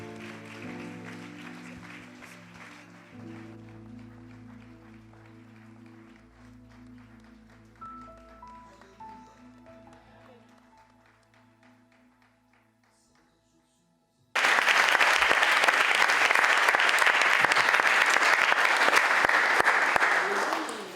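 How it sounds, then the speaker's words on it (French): Church congregation in a loud, sustained burst of applause that starts abruptly partway through, dense and continuous to the end, preceded by quieter music and voices. "Pendant que tu acclames le roi des rois"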